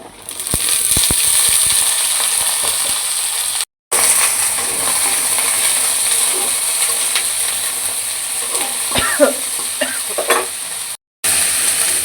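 Malabar spinach seeds and potato bhaji fry in a pan with a steady, loud sizzle, broken by stirring scrapes and two short silent gaps, with no talking.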